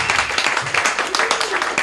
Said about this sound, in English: Hey, hold your applause.